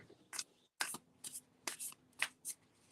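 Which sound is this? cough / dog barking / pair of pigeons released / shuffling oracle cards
shuffling oracle cards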